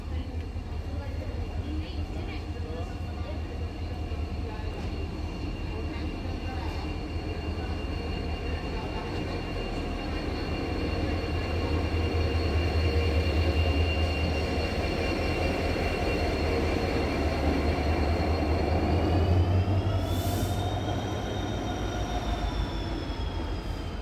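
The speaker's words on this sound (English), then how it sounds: "Here's our locomotive moving towards the other end from platform number 2." A locomotive on an Indian railway line rolls past a station platform with a deep diesel rumble, rhythmic wheel clatter and a high drawn-out squeal, loud and continuous, with muffled talk underneath.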